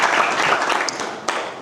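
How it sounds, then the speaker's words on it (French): A seated audience at a live seminar breaks into loud, dense applause, a steady wash of many hands clapping close by with no talk over it. "applaudissez-vous encore"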